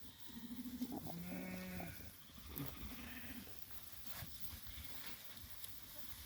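St. Croix sheep in a flock with a lamb, one clear drawn-out bleat followed by a shorter bleat, then quieter rustling and faint movement nearby.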